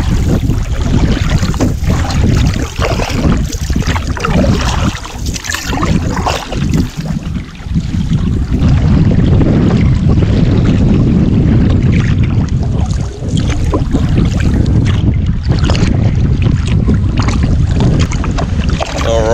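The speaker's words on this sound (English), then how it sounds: "This is a big old lake and it's breezy today." Breezy wind sweeping across a big wilderness lake, blowing hard into the microphone as a loud, sustained roar with rushing gusts and a faint splash of water beneath.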